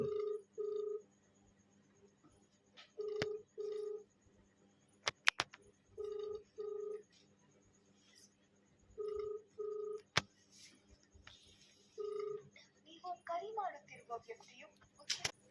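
Phone ringback tones repeat in paired bursts during an unanswered prank call, each ring pattern returning every few seconds, near and clear, with a few clicks and faint background noise between.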